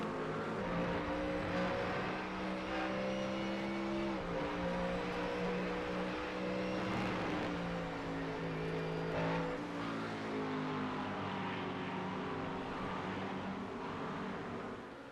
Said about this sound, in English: And this LMP2 traffic behind. That's going to really hold up Williams.